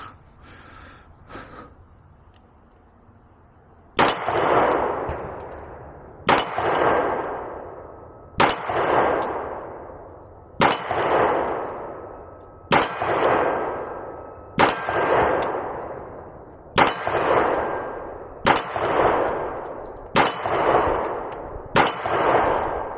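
Beretta 92FS Compact pistol fired in single action, about nine sharp, loud shots at a steady, unhurried pace, each ringing out with a decaying echo, following a short stretch of quiet background.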